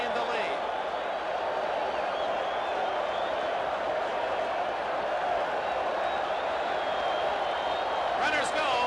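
A Busch Stadium baseball crowd cheers the Cardinals during Game 7 of the 1982 World Series, a continuous, broad roar of voices and applause that holds steady and loud throughout, with a slight swell near the end.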